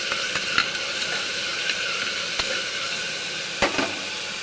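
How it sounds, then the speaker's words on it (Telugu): Tomatoes fry in a pan for mutton curry, giving a steady close sizzle with a few sharper pops and stirring clicks and no talking. "బాగా వేగాలి టమాటీ బాగా వేగాలి"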